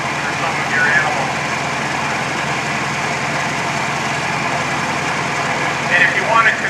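A tractor-driven grain grinder runs at a farm fall harvest demonstration, a steady loud mechanical drone close by that continues without pause while people talk over it.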